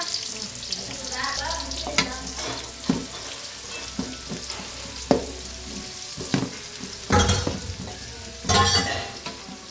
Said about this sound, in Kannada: ಒಂದೇ ಈರುಳ್ಳಿ ಹಾಕಿರೋದು ನಾನು ಇದಂತೂ ರೋಸ್ಟ್ ಮಾಡ್ಕೋಬೇಕು